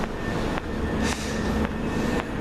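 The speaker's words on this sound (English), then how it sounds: "this is the train to East Grinstead." Class 377 train bound for East Grinstead rumbling along the rails, with steady rolling noise and a regular rhythm of wheel clicks over track joints, heard from on board with no talking.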